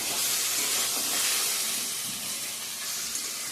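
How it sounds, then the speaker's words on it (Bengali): Spice paste with green chilli sizzling and hissing steadily in a pan as it is sautéed, a continuous close, broadband frying hiss with no talking. "কাঁচা লঙ্কাও দিচ্ছি পেস্ট করে পাকা। ভালো করে কষিয়ে নিই।"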